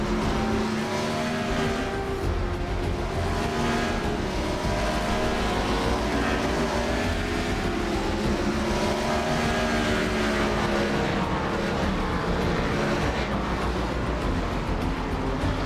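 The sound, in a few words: race cars driving on track at NASCAR Busch Series race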